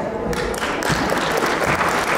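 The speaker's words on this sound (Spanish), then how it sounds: "Los aplausos" Wedding guests applaud in a hall, a loud, close, dense burst of clapping that fills the short stretch with no break.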